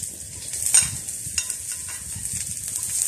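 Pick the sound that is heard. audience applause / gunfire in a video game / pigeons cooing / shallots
shallots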